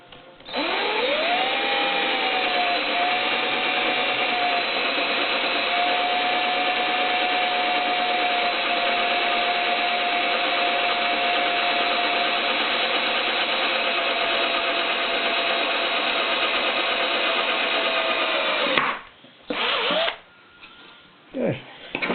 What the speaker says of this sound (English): So we're going to drill a pilot hole for this guy right here